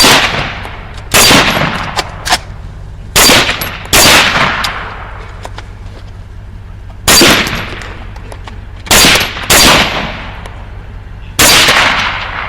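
Rifle shots during a hog hunt, a series of loud, sharp cracks in quick pairs and singles with long decaying echoes between bursts, close by and without talk.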